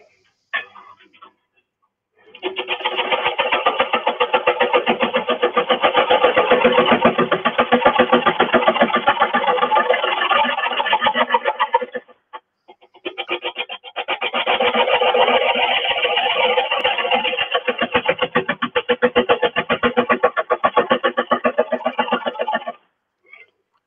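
Wood lathe turning a freshly cut piece of apple wood into a small hollow form, giving a steady close scraping, shaving rasp in two long sustained runs separated by a brief pause.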